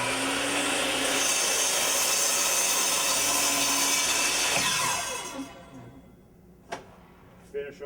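Mitre saw making a plunge cut through a piece of wood, a loud steady whine that cuts off near the five-second mark and winds down, followed by a few faint knocks.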